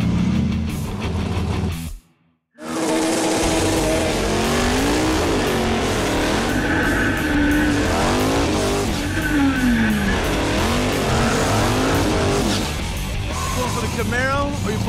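A Camaro and a Honda launch in a quarter-mile grudge drag race, engines roaring loud and close after a brief silence, revving up and shifting through gears with rising and falling whine and faint tire squeal.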